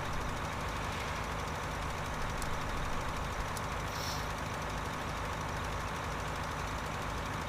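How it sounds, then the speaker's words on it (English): Tractor engine running steadily in Farming Simulator 2013, a continuous mid-range drone at even loudness with faint higher clicks, no voice over it. "I'm quite liking these new tractors."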